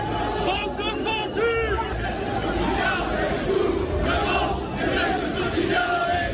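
At an Éric Zemmour rally in Villepinte, a hostile crowd chants rhythmically at Quotidien journalists, dense shouting voices rising and falling together amid babble and scattered individual yells, close and loud throughout.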